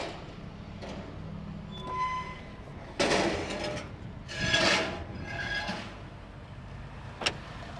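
A rebuilt salvage-auction Honda car rolling along with low road rumble and a few swelling mechanical whooshes and creaks, quiet and steady with no talking.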